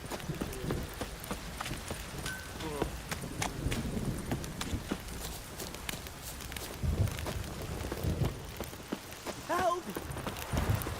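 Horse hooves clip-clop in a steady, fairly faint walking rhythm in the Witcher 3 video game, set against a noisy ambient bed with some indistinct background voice activity.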